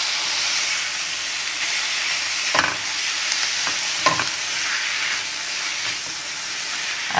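Tomatoes and masala sizzle and hiss loudly in a pan while a spoon scrapes and stirs them in a few distinct strokes, with no speech.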